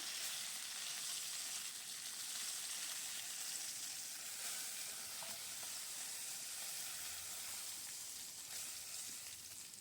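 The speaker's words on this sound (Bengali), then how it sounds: "এগুলো মাছের মাথাটা আমি একটু কড়া করে ভেজে নেব" A rohu fish head fries crisp in hot oil, giving a continuous, even, quiet sizzling hiss that holds steady for several seconds with little stirring.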